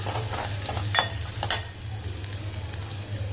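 Chopped onion sautés in a pan for a potato curry, a steady close sizzle broken by two brief scraping clicks of a spatula stirring, with no voices.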